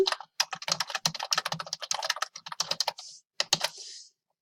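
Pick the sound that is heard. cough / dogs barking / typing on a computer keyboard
typing on a computer keyboard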